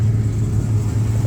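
A Ford XR6 car driving past in an Australia Day muscle-car parade at Hastings, a low steady engine rumble throughout the short stretch, with a voice speaking over it.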